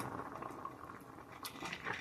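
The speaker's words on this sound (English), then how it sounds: "Okay, it's bubbling here." A pot of gluten-free noodles boils on the stove with a soft, steady bubbling and faint pops, quiet and close with no talk.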